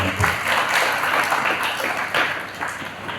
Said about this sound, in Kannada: ಜೋರು ಚಪ್ಪಾಳೆ